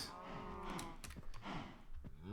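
Pyrotheum cow in the Minecraft modpack Stoneblock 2 mooing, a low drawn-out bovine call heard up close at moderate volume, with a short second low moo near the end.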